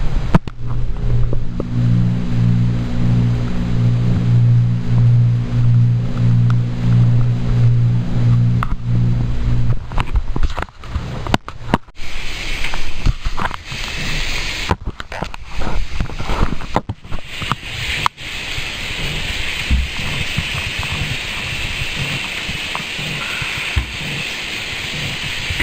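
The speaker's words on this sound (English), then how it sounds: "The compressor's vibration travels along the cold line and is being transferred to the building." AC compressor vibration carried along the refrigerant cold line into a house, a low pulsing hum for several seconds, then rough rumbling and rustling noise that is loud and close.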